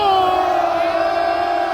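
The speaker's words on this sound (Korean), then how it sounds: "배에 힘주고 함성 한번 멋지게 질러 주셨으면 좋겠습니다" A rally crowd at a Korean labor protest lets out a loud, sustained unison battle shout, many voices roaring together close by for the whole moment.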